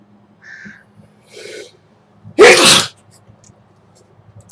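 A single loud, abrupt human sneeze bursts out during a smoke of an Oliva Connecticut Reserve cigar, preceded by a couple of quieter breaths and small sounds in an otherwise quiet room.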